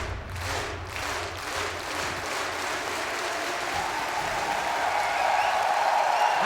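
A large esports arena crowd at the Montreal Major grand finals cheers and applauds in a sustained, loud roar that swells steadily, with no clear talk.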